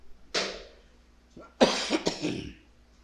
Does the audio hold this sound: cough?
yes